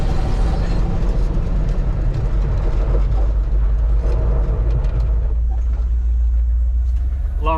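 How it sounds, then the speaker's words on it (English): Ranch truck with a new brake booster drives with a loud, steady engine and road rumble from inside the cab, then brakes hard to a stop. "Locked up the brakes."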